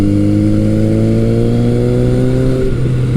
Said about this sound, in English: I've got the Delcathic pipe and it just sounds great under hard acceleration.